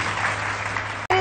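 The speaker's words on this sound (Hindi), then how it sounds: "सबसे पहले तालियां हो जाए ना" Studio audience applause on a Pakistani morning talk show's music segment, a dense steady wash of clapping that cuts off briefly near the end before resuming with a voice over it.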